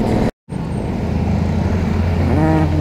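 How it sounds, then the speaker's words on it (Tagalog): Road traffic heard from a moving motorcycle in a city street, with a steady engine rumble and the hum of cars close by, continuous and fairly loud apart from one brief cut. "Traffic, guys."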